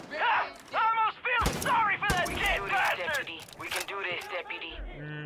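Gunfire from the video game Far Cry 5, with several sharp broadband bursts cutting through near-continuous excited talk from players throughout.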